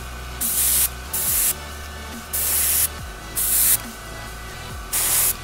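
An airbrush sprays paint through a tattoo stencil, building a cloud in a ship-at-sea airbrush tattoo. Five short, close hissing bursts are split by brief pauses, and each burst ends with a small click.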